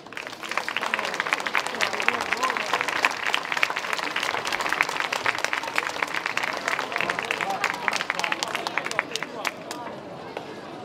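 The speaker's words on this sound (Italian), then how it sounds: "al verde partite con l'applauso" Crowd applause greeting a contestant at a local La Corrida talent show in Rocchetta Sant'Antonio, a brisk, sustained patter of many hands clapping with murmuring voices mixed in.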